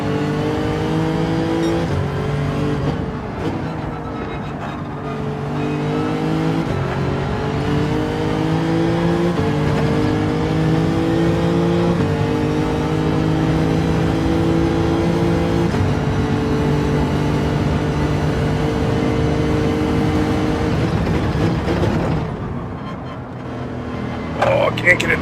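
Ferrari race car engines in Gran Turismo 7, loud sustained engine whine climbing and falling in pitch as the cars race close together, with someone talking over it.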